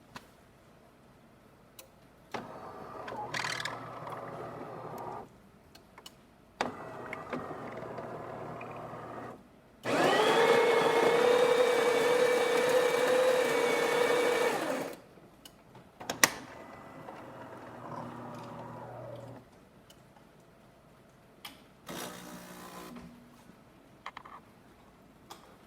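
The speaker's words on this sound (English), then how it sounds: "Today we're testing this DeLonghi Magnifica" A DeLonghi Magnifica espresso machine, just after a full tune-up, pulls a shot: mechanical ticking and whirring, then a loud steady pump hum for about five seconds, followed by quieter clicks and brief grinding bursts.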